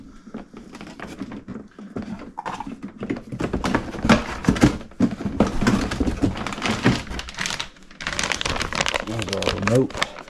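A small goodie bag packed with a CrossRC EMO X3 recovery truck is handled and unwrapped, giving close, steady crinkling and rustling with someone talking over it.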